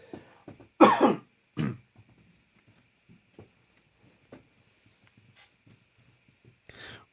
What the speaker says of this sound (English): Pardon me, here comes a cough